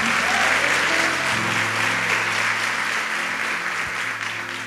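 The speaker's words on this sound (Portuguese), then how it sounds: "Pode dar glória a Deus, pode aplaudir" A church congregation applauds loudly and steadily, a dense wash of clapping over a low sustained organ or keyboard drone that carries on beneath it.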